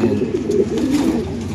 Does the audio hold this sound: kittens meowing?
no